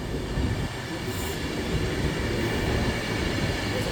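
A Great Western Railway class 180 train passes at Nuneaton on the West Coast Main Line, a steady rushing rumble of wheels on rail with a faint high squeal, moderately distant and without voices.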